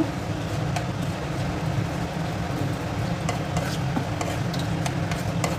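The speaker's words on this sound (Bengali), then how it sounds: "এবার এটা ভালোভাবে ভেজে নেব।" A bay leaf, a whole dry red chilli and whole garam masala frying in hot mustard oil in a pan, a low continuous sizzle with occasional light stirring scrapes, close and quiet with no one speaking.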